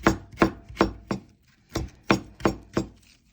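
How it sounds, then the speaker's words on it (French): A knife slices two peeled onions on a cutting board, giving about eight crisp, evenly spaced chops up close with a short pause midway. "Voilà, on émince ces 2 oignons"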